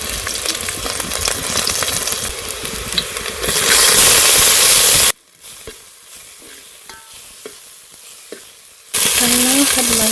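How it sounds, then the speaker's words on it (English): Chopped onions and coriander hit a dash of hot oil in a pot, giving a loud, steady close sizzle that drops to near silence midway before the frying noise returns at full strength. "I'm going to add a little oil, just a dash to fry my onions and coriander. I'll add my chopped onions in."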